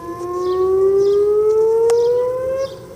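A tornado warning siren holds one long, slowly rising wail, loud and steady outdoors, with faint chirping birds underneath and a sharp click near the end.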